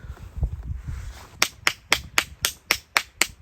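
Loud, sharp hand claps, about nine evenly spaced beats close by, follow a stretch of low background rumble on a Danube bike tour between Vienna and Budapest.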